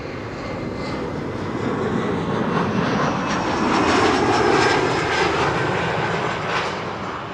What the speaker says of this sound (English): This is KLM Flight 972, arriving from Humberside.